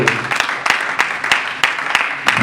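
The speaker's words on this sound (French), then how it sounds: "Let's applaud for the glory of the Lord." A church congregation at an evangelistic service claps together in a steady, loud, close rhythm of about three claps per second, over a faint low background murmur.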